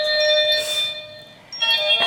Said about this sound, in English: and then it has a little doorbell that I got around Halloween